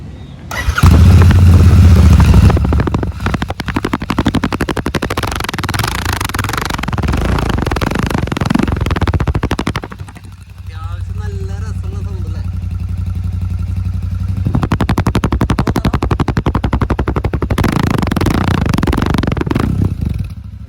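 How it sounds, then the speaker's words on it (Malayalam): A Royal Enfield Shotgun 650 motorcycle fires up and settles into a loud, close idle with a deep thumping beat, revved hard at times, with a brief dip partway through before the throbbing returns. "നമുക്കിനി ഷോർട്ട് കൺ 650 തമ്പ് നോയ്സ് നമുക്ക് കേൾക്കാം."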